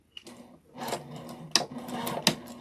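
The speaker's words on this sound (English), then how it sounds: "I'm just going to stitch it to the end of it." Sewing machine stitching fabric strips onto batting for a bowl cozy, with a soft click and then short close whirring runs punctuated by sharp mechanical knocks, with no talk.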